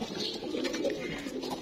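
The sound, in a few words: pigeons cooing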